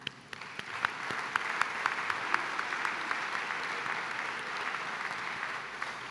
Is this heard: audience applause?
yes